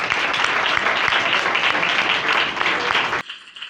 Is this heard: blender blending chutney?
no